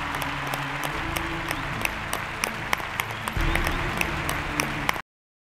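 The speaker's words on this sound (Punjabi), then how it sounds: "ਸੋ ਇੱਕ ਵਾਰ ਫਿਰ ਜ਼ੋਰਦਾਰ ਤਾੜੀਆਂ ਜੀ ਮੇਹਰ ਮਿੱਤਲ ਜੀ ਲਈ" An audience at a Punjabi film awards ceremony applauds Mehar Mittal, with steady, dense clapping from a large crowd that swells louder near the end, with sharp individual claps standing out.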